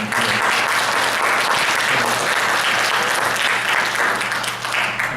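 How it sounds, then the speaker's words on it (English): Sustained audience applause fills a university Q&A session on medical cannabis, dense and steady throughout at full strength, with no voices breaking through. "give her a round of applause for having courage"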